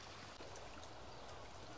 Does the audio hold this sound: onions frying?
no